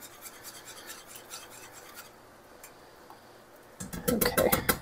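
A whisk scrapes and rasps through a thick Parmesan cheese mixture in a bowl, with faint rhythmic strokes at first and then louder, busier scraping toward the end.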